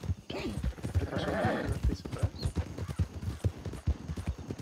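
Horse hooves clip-clop near a herd of horses in Red Dead Redemption II, a steady run of close, moderately loud hoofbeats with brief murmured talk over the top.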